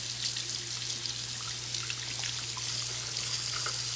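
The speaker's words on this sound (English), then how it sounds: "Pop this thing off, rinse it off in some water." Water running over a removable kitchen gadget part as it is rinsed, a continuous close splashing trickle with a faint steady low hum beneath.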